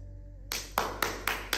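Five sharp hand claps at a steady, slightly uneven pace, close and clear after a quiet start, with no talking over them.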